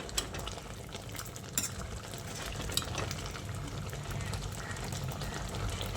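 Lentil dal cooked with Malabar spinach bubbling in a covered pot, a steady low simmering hiss with soft pops and faint clinks, continuous and close for the whole stretch.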